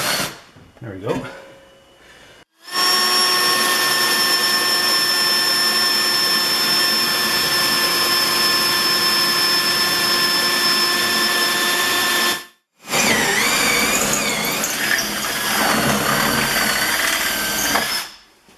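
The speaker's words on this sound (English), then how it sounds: "One more hole to drill." A power drill bores holes through an aluminum swim platform plate on a Tracker Pro Guide boat, running in two long sustained bursts with a steady whine and a brief pause between them, loud and close, with talk early on.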